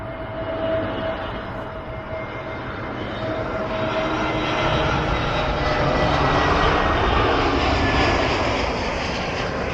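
An airplane flies near an airport runway, a steady broad engine roar that holds loud and slowly swells over about ten seconds, heard from the ground with no talking.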